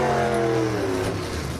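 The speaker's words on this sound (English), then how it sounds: "Hale Bell doing the burnout." A gasser drag race car, a 1951 Ford, does a burnout at Silver Dollar Motorsports Park: a loud, close engine roar with falling harmonic tones as the revs drop, alone without talk.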